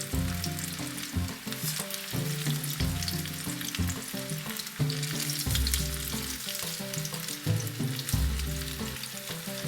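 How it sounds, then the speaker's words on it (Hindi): Moong dal pakoras deep-fry in hot oil with a loud, continuous crackling sizzle, broken by intermittent lower bubbling bursts and the occasional stir through the pan. "जब ये फ्राई हो जाएगा तो हम इसे निकाल लेंगे।"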